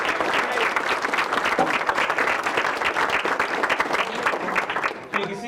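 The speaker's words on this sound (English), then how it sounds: "How about one more round of applause for all our presenters?" An audience at a Pirates community caravan event applauds its presenters, sustained loud clapping from a room full of people with a few scattered voices, tapering off near the end.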